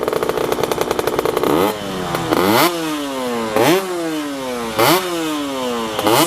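A two-stroke 125cc sport motorcycle, a KTM RC125 or Aprilia RS125, screams at full throttle, its pitch climbing sharply through repeated gear changes with short pauses between each rising rev, loud and close.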